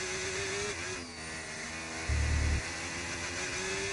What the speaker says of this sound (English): That car sounds awful.